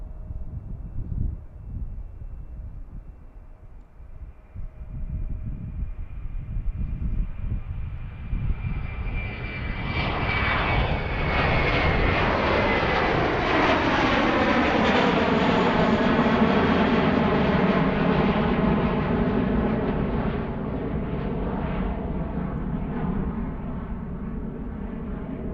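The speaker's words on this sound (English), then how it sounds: "Something big flying over us right now." A large airplane passes low overhead near Philadelphia International Airport, its engine roar building from a distant rumble to a loud, sweeping drone that stays loud as it goes over.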